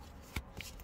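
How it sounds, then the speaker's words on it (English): A deck of name cards is shuffled by hand, giving two brief, soft papery riffle-clicks against a quiet room. "So here we go, give them a little shuffle."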